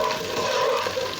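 Chopped onions fry in hot oil for achari bhindi, giving a brief, steady, fairly quiet sizzle with a soft hiss and no voices.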